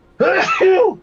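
A single sharp voiced sneeze bursts out close by after a brief silence, lasting under a second.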